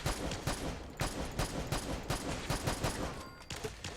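Bulldog .308 rifle from Fallout 4 fires in semi-auto, a steady run of about nine sharp, loud shots roughly every half second, with no talk.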